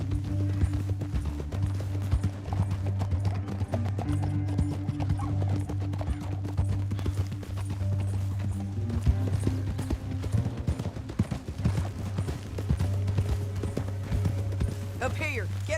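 Horses clip-clopping at a steady gallop in the Red Dead Redemption 2 video game, hoofbeats running continuously under a low rumbling music bed, with a voice speaking over part of it.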